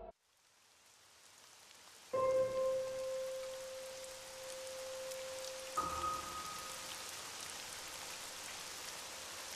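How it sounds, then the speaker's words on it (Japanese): Steady broadband rain hiss from the video game Shadow Corridor 2, continuous and fairly loud across the whole stretch, with a sustained tonal drone and a brief sharper accent layered over it partway through. "雨か"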